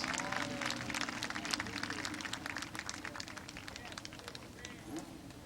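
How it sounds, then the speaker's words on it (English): A crowd at Barberton Raceway Park applauds the winner of an 8-lap heat race, dense clapping and cheering under a voice over the loudspeaker, fading slightly toward the end. "Give him a round of applause for taking this 8-lap heat race."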